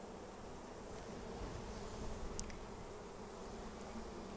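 Honey bees buzz steadily around an open hive during a brood inspection, a dense continuous hum of many insects, soft and close, with one bee briefly passing nearer.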